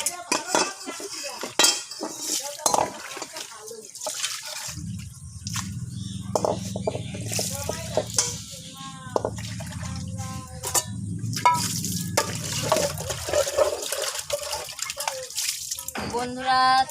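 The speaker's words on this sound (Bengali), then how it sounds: "দেখো কত থালা বাসন ধুয়ে নিচ্ছি বন্ধুরা" Plates and utensils being washed by hand, with metal dishes clattering and clinking, running water in the middle stretch, and dripping, all close by.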